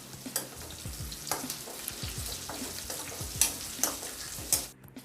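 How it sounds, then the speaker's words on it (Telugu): Thinly sliced tomatoes fry for chicken fry while a spoon stirs them, a close sizzle broken by rhythmic scraping and clinks against the pan. "సన్నగా కట్ చేసి పెట్టుకున్న టొమాటోస్ కూడా ఉన్నాయి కదా, అవి కూడా ఇందులో వేసి మళ్ళీ ఒకసారి స్పూన్తో తిప్పుకోవాలి"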